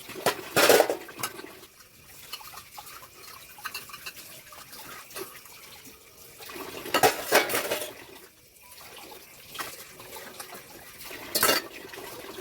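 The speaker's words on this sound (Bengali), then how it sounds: "সব বাসন ধুয়ে এখন" Dishes, pots and pans being washed under running water in a home kitchen, with intermittent clattering of metal utensils and vessels over a soft trickle of water.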